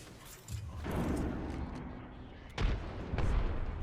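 Gunfire and impacts in the video game Apex Legends during a ranked solo-queue match, with dense bursts of shots and booming hits that keep going across the few seconds and swell loudly near the end.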